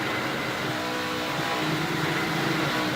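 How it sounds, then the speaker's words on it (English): An ARCA race car engine at Michigan International Speedway running hard against its rev limiter, a constant harsh mechanical roar with a faint stuttering cut-out, steady and loud for the whole span. "You hear that engine sounds like it's cutting out. Well, it actually is cutting out. That's the rev limiter we were talking about."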